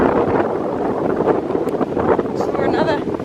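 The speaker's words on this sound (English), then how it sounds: "It's windy and very light misty rain." Wind gusting across a bushland walking trail in light misty rain, a loud rushing roar buffeting the microphone continuously, with a brief faint higher sound near the end.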